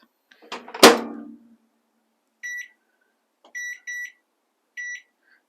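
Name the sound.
microwave oven running while melting chocolate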